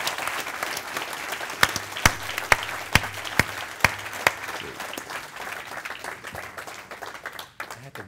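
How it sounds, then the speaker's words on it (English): Crowd applause at a live event fills the space steadily, with sharp individual claps standing out near the start and middle, a loud sustained wash of clapping that thins toward the end, with some voices mixed in. "Give him a round of applause, please."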